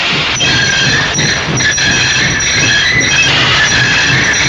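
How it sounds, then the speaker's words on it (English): A toy train rolls steadily along the rails with a continuous rumble and faint rhythmic clacks, close and fairly loud, no voices. "he was starting to gain up speed and pull James' train"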